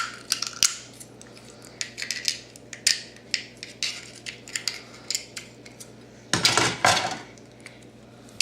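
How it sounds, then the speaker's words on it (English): Repeated sharp snips of scissors cutting through plastic, an irregular series of crisp clicks, ending with a louder burst of crunching and handling. "I'm going to smooth out these sides with my scissors."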